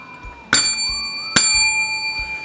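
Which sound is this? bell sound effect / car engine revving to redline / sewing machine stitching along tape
bell sound effect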